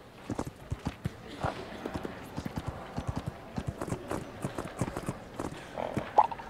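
Horse hooves clip-clop at a steady walking pace in the PC riding game My Little Riding Champion, evenly spaced, fairly quiet taps, with a brief horse sound near the end.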